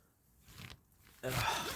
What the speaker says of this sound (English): Let's grab the right zipper here.